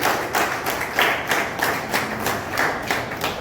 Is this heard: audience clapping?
yes